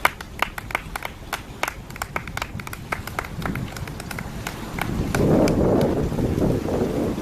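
A church congregation at a baptism in Abidjan claps in a steady, rapid rhythm, the sound swelling into louder crowd noise and cheering toward the end.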